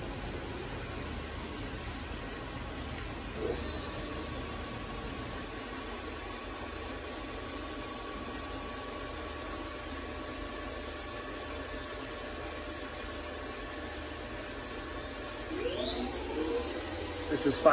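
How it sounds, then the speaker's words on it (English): A 2022 Milltronics TRM30HT CNC machine's spindle runs at speed 1500, giving a steady tonal whine over a low mechanical hum that holds evenly, then swells louder with a brief rising sweep near the end. "We'll run the spindle for you. Let's do speed 1500."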